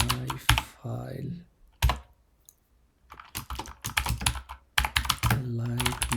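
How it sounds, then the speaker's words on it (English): Someone types on a computer keyboard in bursts of quick close key clicks, with pauses between them, under and between spoken talk. "So let's say I'm typing here, this is my file"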